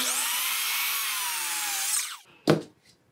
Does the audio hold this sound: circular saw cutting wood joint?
yes